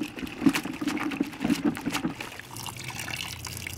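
Detailing pad being worked by hand in a Detail Guardz pad washer, twisted and agitated through water: wet sloshing and trickling pulses, close and moderately loud, fading toward a softer wash at the end.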